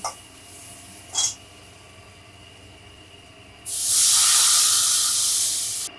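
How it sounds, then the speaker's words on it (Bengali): Water poured into a hot pan of spiced eggplant for a hilsa fish curry: a loud, steady sizzling hiss lasting a couple of seconds, preceded by two brief faint clinks. "খানিকক্ষণ নেড়ে নেওয়ার পর এবার আমি জল দিয়ে দিচ্ছি"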